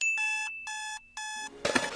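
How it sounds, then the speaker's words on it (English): Alarm clock ringing in three loud, steady electronic bursts separated by short gaps, followed by a brief clatter or rustle at the end. "Using an alarm clock in 2024 instead of just setting 7 alarms on your smartphone in 5-minute intervals"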